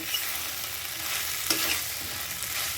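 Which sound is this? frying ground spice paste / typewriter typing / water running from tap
frying ground spice paste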